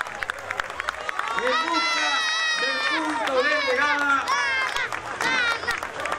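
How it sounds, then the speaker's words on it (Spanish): A grandstand crowd at a 7K running race applauds and cheers as the athletes set off, a loud, steady wash of clapping with shouting and excited voices over it, continuing throughout. "Vamos con el aplauso de la tribuna"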